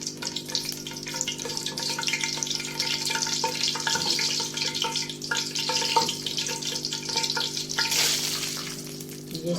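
Ghee with green cardamom pods sizzles and fries in a pan, a continuous crackling hiss with occasional stirring scrapes and a brief clatter near the end, heard without any talk.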